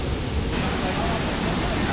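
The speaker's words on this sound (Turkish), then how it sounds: "Şuradan şelale akıyor zaten." Waterfall at Pokut Plateau near Arhavi in the Black Sea highlands pours in a steady, full-band roar, close and continuous, with no pauses.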